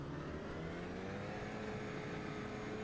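A Renault Alpine A110 race car revs and strains at the race start in a GT4 racing video game, its engine a steady, moderately quiet drone with rising tonal whine and no talking.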